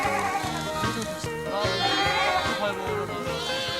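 Xiaoman and Paul goats kept on a livestock farm bleat in overlapping calls, several animals at once, loud and close, with a steady wavering rhythm and no talk.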